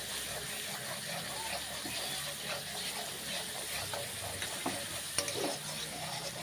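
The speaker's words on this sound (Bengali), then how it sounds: "আর এইগুলো একটু ভালো করে কষিয়ে নেব।" Green chili paste sautéing in hot oil for a Bengali tadka, a steady close sizzle and frying hiss with soft stirring scrapes throughout.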